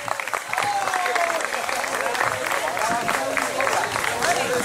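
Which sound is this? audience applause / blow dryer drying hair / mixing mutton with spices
audience applause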